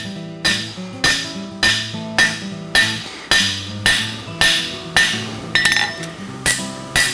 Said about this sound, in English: Drive my hammer straight into that corner.